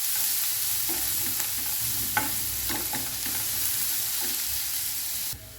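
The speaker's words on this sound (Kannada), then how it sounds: "ಇದು ಹಸಿ ವಾಸನೆ ಹೋಗೋದವರೆಗೆ ಎಷ್ಟು ಫ್ರೈ ಮಾಡುವ" Finely chopped onion frying in a hot pan with a steady close sizzle, broken by occasional scraping stirs of a spoon, no voices present.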